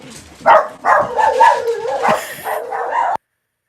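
A dog barks and yips loudly nearby in a rapid run of excited, whiny barks that blend into a howling whimper before cutting off abruptly.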